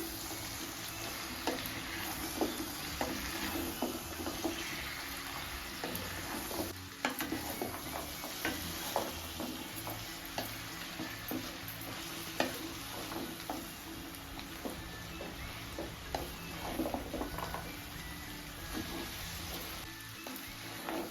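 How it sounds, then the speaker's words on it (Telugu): Meal maker pulav masala with mint and coriander is stirred in a sizzling pan, and a continuous fry hiss runs under frequent small utensil clicks and scrapes against the metal throughout, with no talking. "ఇప్పుడు ఇవన్నీ ఒకసారి మిక్స్ చేసేసుకోవాలి."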